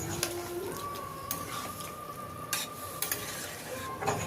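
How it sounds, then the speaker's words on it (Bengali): Spice paste is stirred into water in a pan for a vegetarian ridge gourd and potato poppy-seed curry, a spoon scraping and tapping the pan over a soft simmering hiss, with faint birdsong in the background. "ভালো করে নাড়াচাড়া করে মশলাটা জলের সাথে মিশিয়ে নিচ্ছি।"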